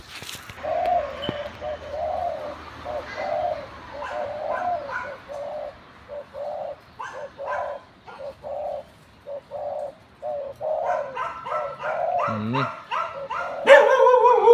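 A caged decoy dove with a medium-pitched voice coos close by in repeated rhythmic phrases with short pauses between, and a few sharper, louder noises come near the end.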